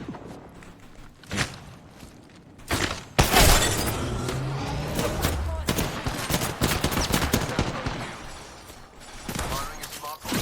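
Rapid bursts of gunfire from Apex Legends weapons crackle loudly and nearly nonstop, with sharp shots, automatic volleys and shattering impacts layered under a voice talking.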